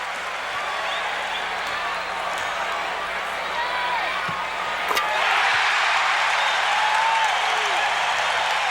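A sellout arena crowd of over 15,000 roars and cheers without pause at a 1989 NBA game in Orlando, Pistons against Magic. The din swells louder midway through.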